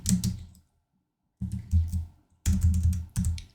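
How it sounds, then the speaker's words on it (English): Quick bursts of keystrokes on a computer keyboard while text is entered in a design app, coming in three short clusters separated by brief silent pauses, close and clear with no talking. "I'll just type in the time"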